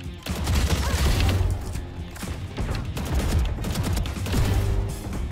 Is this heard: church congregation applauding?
no